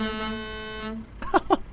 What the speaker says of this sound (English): Love me air horns.